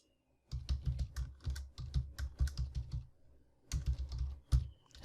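Keys on a computer keyboard are typed in quick, close bursts of sharp clicks, with a short pause partway through and a final flurry, all in an otherwise quiet room.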